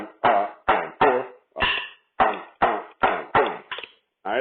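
A snare drum plays a dotted eighth-note rhythm of about ten crisp, dry strokes, heard close and alone with short silences between the hits.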